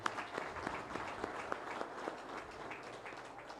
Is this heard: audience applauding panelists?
yes